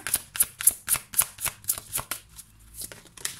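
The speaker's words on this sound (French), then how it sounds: "On va prendre 2 autres cartes pour cette semaine." Tarot cards are shuffled close by in a quick, steady series of crisp riffling snaps, about a dozen in a row, with a brief pause near the end before the shuffling resumes.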